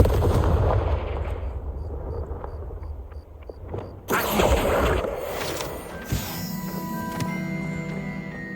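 A Confringo fire spell blasts in Hogwarts Legacy with a sudden loud burst over a dense, rumbling game soundscape, followed by crackling, lingering energy and tonal ringing.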